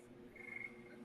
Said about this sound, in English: Actually, no, it's not crickets. It's tree frogs.